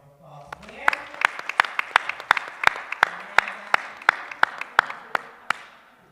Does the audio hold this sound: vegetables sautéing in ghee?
no